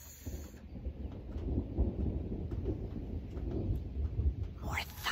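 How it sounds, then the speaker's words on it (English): Low rolling thunder rumbles steadily through a quiet indoor setting, a continuous deep roar with soft swells that builds slightly toward the end, heard alone without talk. "More thunder."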